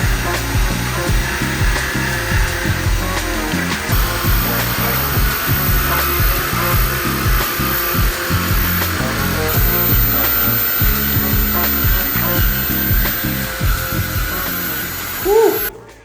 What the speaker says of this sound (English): I'm probably gonna use one of these sizes of hole saws to drill through our porcelain